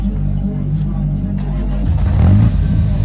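A car engine runs at a used car market in Andijan, rumbling steadily before building into a louder rev near the end, close by, with people talking underneath.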